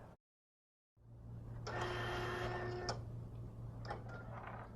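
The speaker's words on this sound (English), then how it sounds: "After your sample card has printed, you are now ready to use your printer." A Datacard SD/CD series card printer runs through a sample card, a steady mechanical whir with a ticking feed rhythm that swells for a couple of seconds and then continues with lighter clicks, close and moderately loud after a brief silence.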